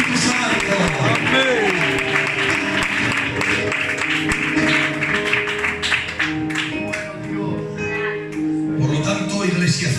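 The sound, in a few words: church congregation applauding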